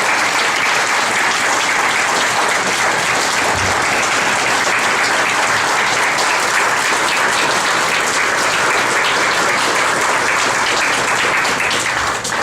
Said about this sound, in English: Now, let's have a round of applause for all of you.